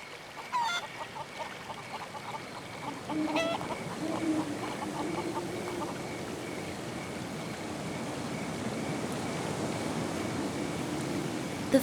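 In the video game Haunted, a chicken makes repeated honking clucks near the start, followed by a long stretch of steady low game ambience with no speech.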